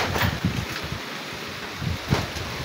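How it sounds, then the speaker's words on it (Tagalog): Strong southwest monsoon wind sweeps down from the mountains in Sorsogon, Bicol, buffeting close with steady rushing noise and heavier gusts, and no voices. "Ang lakas ng hangin habagat"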